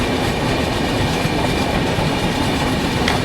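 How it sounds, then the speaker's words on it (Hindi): The Utkal Express rolls along the rails, a loud, close, continuous rumble and rattle of the carriages that holds steady through the short stretch. "देखो स्पीड अप तो हो रही है अपनी उत्कल"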